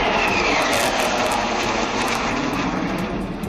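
Sukhoi 30 MKI fighter jets roaring over a Republic Day rehearsal in Delhi, a loud continuous broadband engine roar filling the whole clip without letup.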